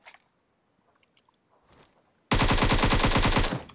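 PUBG Mobile gunfire: after faint scattered clicks and footsteps, a loud rapid automatic burst erupts and rattles on steadily for over a second before cutting off.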